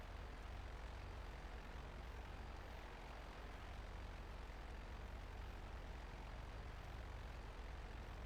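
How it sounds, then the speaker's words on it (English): A large jet plane flying overhead in a GTA video game, a steady, broad roar of engine noise that stays even and continuous throughout with no voices. "That is a big ass jet."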